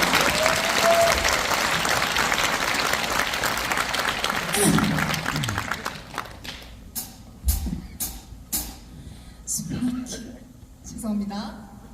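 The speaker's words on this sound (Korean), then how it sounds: "박수 부탁드립니다." Audience applause fills a concert hall at a peace concert marking Kim Dae-jung's 100th anniversary, at Gyeongnam MBC Hall. Dense, steady clapping runs for about six seconds, then thins and fades as a voice speaks.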